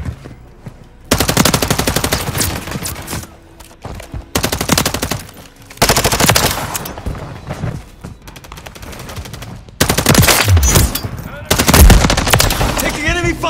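Heavy automatic weapon fire rattles through a shooter video game in long loud bursts separated by brief lulls, with the scene's battle noise filling the gaps.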